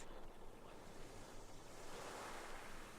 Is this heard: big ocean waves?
yes